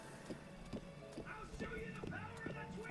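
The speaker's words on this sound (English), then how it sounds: "Just having a nice little leisurely ride with Panay." Horse hooves clip-clop in a steady walking rhythm during a leisurely ride in a video game, close and continuous under a soft voice talking.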